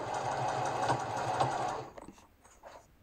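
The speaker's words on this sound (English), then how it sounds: "So broke loose the sewing machine" A sewing machine stitches thermal blinds for a camper van, its steady motor whir running loud for nearly two seconds before stopping, followed by quieter handling sounds.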